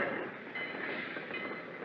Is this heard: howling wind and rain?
no